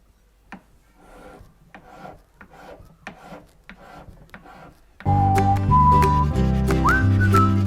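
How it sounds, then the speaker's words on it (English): A rough file rasps on a carved wax signet ring in steady back-and-forth strokes, close and fairly soft, before loud whistled notes and a tonal hum take over in the last few seconds. "And I'm going to start filing until I go just a little bit before the line."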